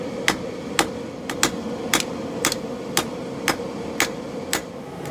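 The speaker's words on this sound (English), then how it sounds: "I'm just going to bring some of the width in and forge a nice long reverse taper" Hammer blows forging a kris dagger blade from an old file, about ten sharp ringing metal strikes at a steady, slightly uneven pace over a constant shop hum, close and loud, with no speech.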